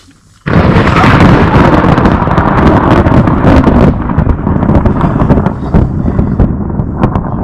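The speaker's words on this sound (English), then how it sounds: "we heard thunder off in the distance" A loud, sustained low rumble of thunder rolls on for several seconds after a sudden onset, with windy buffeting noise mixed in, at a campsite on Isle Royale.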